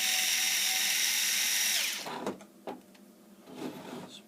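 Power screwdriver whirring steadily as it backs out Torx screws from an HP DesignJet 500 printer, a loud continuous drive for about two seconds that stops abruptly, followed by scattered clicks and handling noises.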